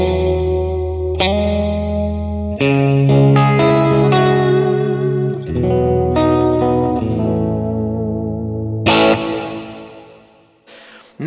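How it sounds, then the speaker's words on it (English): Ambient electric guitar through a Kemper profiler's Natural Reverb with the delay switched off, slow chords and sustained notes ringing out into a dark, spacious reverb tail that fades near the end. "let's just take off the delay and let's just hear what the verb's doing right now"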